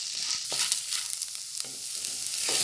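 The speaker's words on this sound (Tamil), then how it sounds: "வெங்காயம் கொஞ்சம் ப்ரௌன் ஆகிற வரைக்கும் கொஞ்சம் நேரம் வதக்குங்க." Onions frying in a pan for a Tamil crab curry, a steady bright sizzle running throughout with occasional scraping stirs, close and moderately loud, no talking.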